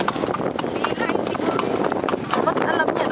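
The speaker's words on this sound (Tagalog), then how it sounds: "Yan yung kabayo. Tumatakbo pa rin." Horse hooves clip-clopping steadily as the animal trots while pulling a kalesa through city streets, an even rhythm heard close under nearly continuous conversation from the riders.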